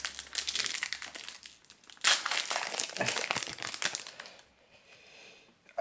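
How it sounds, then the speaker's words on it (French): A trading card booster pack wrapper torn open and crumpled by hand, loud close crinkling in bursts that fade to quieter rustling toward the end, with no talk. "On va ouvrir l'avant-dernier paquet."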